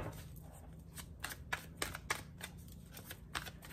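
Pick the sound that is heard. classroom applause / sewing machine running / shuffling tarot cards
shuffling tarot cards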